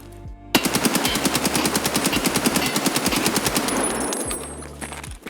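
Automatic fire from an AKM rifle in the Escape From Tarkov shooter game, with a loud, rapid, evenly spaced burst of about thirty shots lasting some four seconds, heard alone.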